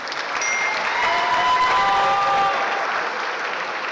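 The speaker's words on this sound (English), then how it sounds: "Let's give our contestants a round of applause." Audience applause for prom pageant contestants at a Class of 2025 prom fashion show, a loud, steady burst of clapping that holds for several seconds before easing slightly, with a faint whistle or cheer over it.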